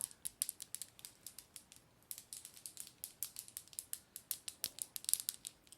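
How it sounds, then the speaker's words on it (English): A hummingbird rattle is shaken softly and close up in a quiet room, making quick bursts of dry, crisp clicks in an uneven rhythm with small pauses. "We're going to begin tonight with our hummingbird rattle"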